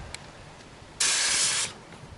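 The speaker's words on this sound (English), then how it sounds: "So I'm only going to use about 2 seconds of spray towards this initial barrier for the bear." A short burst of inert bear spray hisses from a canister for under a second, a loud, steady broadband spray that cuts off abruptly against a quiet outdoor background.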